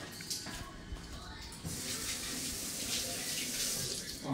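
Water runs from a kitchen sink tap while something is washed under it during cooking, a steady close splash that carries on throughout.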